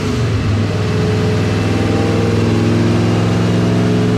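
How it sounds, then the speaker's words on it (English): A Cadillac CTS-V engine swapped into a Volvo 240 is revved hard and steadily higher, the loud engine note holding and climbing throughout with no talking. "we're gonna rev it a little higher, see exactly where it stops making power"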